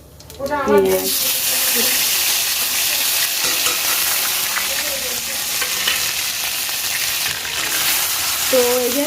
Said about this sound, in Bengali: তো তেল এদিকে গরম হয়ে গেল আর এবারে দিয়ে দেব হচ্ছে এই যে কালো জিরে ফোড়ন